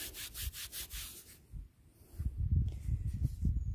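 A coin found while metal detecting is rubbed clean of dirt with the fingers, giving close, rhythmic scraping and rubbing strokes that turn into softer, irregular friction noises.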